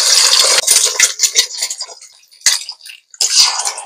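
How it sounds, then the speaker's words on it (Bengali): Eggs hit hot oil in a wok with a loud burst of hissing sizzle that fades and flares again, mixed with clinks of a metal utensil against the pan. "তেল গরম হয়ে গেছে, এবার ডিম দিয়ে দেবো।"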